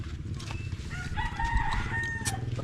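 A rooster crows nearby, one drawn-out call rising over a low, steady background rumble.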